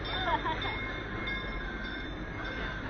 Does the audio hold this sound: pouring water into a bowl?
no